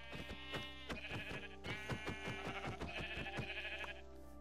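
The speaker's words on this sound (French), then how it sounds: "Donc là, je vais tuer le mouton" A sheep bleating in the video game Minecraft, a loud, close, wavering bleat that holds steady for about four seconds without pause, with no talking.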